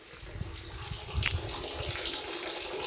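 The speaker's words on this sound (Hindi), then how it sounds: "पानी भर रहा है" Water running from a tap as a container fills, a soft steady gush that stays faint and distant with some low background rumble.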